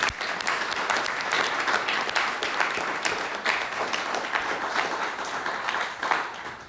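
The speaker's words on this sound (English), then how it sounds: "Let's give them a big round of applause." An audience at a legislative district candidate forum breaks into sustained applause, dense and even clapping from a crowd that carries on at steady volume for several seconds with no talk over it.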